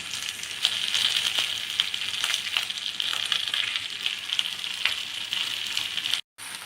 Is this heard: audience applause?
no